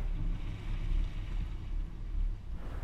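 A 2010 Ford Edge carrying a Curt cargo carrier on its 2-inch hitch weaves through a slalom on a test course, giving a steady low road rumble with heavy wind noise and no voices.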